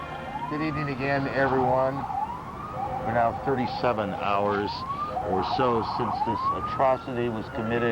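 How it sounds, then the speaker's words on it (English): Emergency sirens wail in New York streets, rising and falling repeatedly behind a news anchor who talks steadily over them. "You can hear the sirens still in the background."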